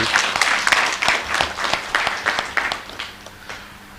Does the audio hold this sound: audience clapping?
yes